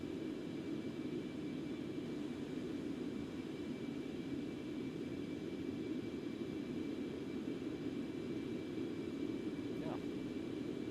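Steady, continuous roar of Concorde jet engines in the X-Plane 11 flight simulator during a low-altitude cruise near the south coast of Japan, a broad even drone held throughout without any change.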